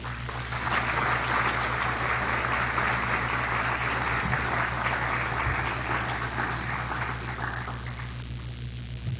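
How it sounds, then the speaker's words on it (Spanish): Audience applause at a Spanish academic lecture honoring a scholar, sustained and dense clapping throughout, steady and fairly loud without any voices on top. "Un cálido aplauso al doctor maestro Alfredo Alvar."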